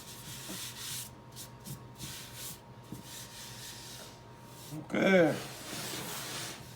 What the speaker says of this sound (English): first I use a small finish sander by Ryobi